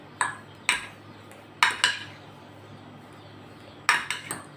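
A utensil clinks against a bowl while tuna, egg and potato are mixed, giving several sharp, close metallic taps in irregular bursts with quiet pauses between.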